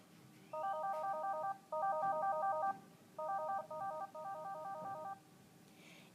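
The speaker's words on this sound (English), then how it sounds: "While the phone is idle, pressing the plus or minus will change the volume of your ringtone." A Polycom SoundPoint IP 550 desk phone plays its ringtone in repeated bursts of rapid trilling tones with short pauses between them. The ring is clear and moderately loud with no talk over it.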